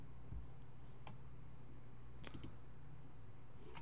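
A computer mouse clicks a few times, faint sharp ticks including a quick double click, over a low steady room hum.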